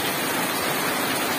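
Steady rain falls on an October afternoon as a dense, even hiss, loud and continuous for the whole stretch, with no voices.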